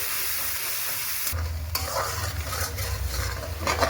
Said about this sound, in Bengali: ভালোভাবে কষিয়ে নেব ফোড়নের সাথে।